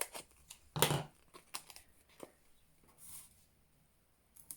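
Paper card edge pieces for a twisted easel card being cut in half: one crisp close snip early on, followed by softer handling rustles and faint taps in a quiet room.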